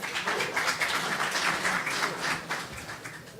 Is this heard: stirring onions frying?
no